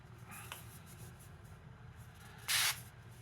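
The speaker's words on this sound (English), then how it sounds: "gonna spray our pan down with that avocado cooking spray" A short hiss from a can of avocado oil cooking spray, one brief spray burst onto a pan after soft background noise and a faint scrape.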